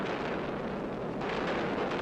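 Explosion of a WWII Katyusha rocket artillery warhead: a sustained, dense roar of rumbling blast noise that stays loud and continuous throughout, with no voices.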